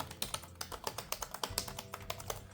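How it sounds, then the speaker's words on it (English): Keys tapped on a Crowview Note portable monitor's laptop-style keyboard, a quick uneven run of about twenty crisp, close clicks, fairly quiet and with no talk. "If we test out the keyboard, it works."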